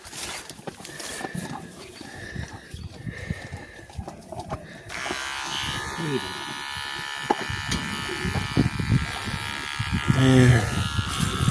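Electric clippers buzz steadily while shaving around an open, caked abscess on a cow, the hum starting midway and running continuously, fairly close, with voices talking over it.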